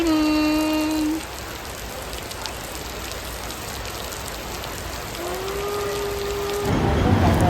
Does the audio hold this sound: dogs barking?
no